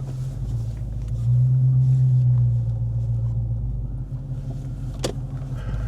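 A car backs up slowly. Its low engine rumble swells briefly for a couple of seconds and then settles, and a single sharp click comes near the end.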